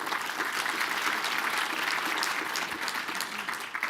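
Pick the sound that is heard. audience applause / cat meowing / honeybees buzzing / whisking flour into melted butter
audience applause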